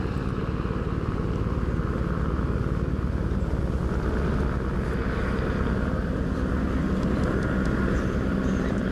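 A helicopter flying over a golf course during a professional women's tournament, a steady, loud low rumble and drone that holds evenly throughout with no pause and no voices.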